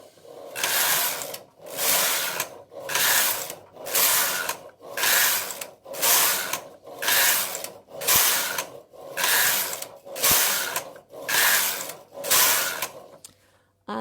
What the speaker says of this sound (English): Carry on knitting.